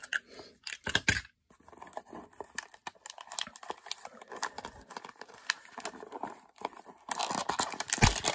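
A Walgreens mystery box package is opened by hand, giving quiet, intermittent crinkling and tearing with small rustles and taps, louder near the end.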